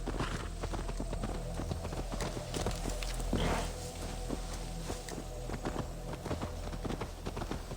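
Horse hooves clip-clop steadily in Assassin's Creed Valhalla as the mount walks along, a continuous rhythmic patter over the game's ambient background, with no talk.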